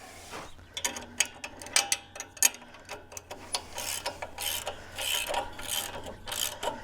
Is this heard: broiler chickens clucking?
no